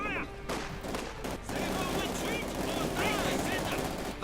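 MG42 machine guns rattle in long rapid bursts amid other gunfire in a Company of Heroes 2 battle, loud and continuous, with a commentator talking over the shooting.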